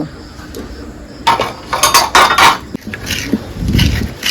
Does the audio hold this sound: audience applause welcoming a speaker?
no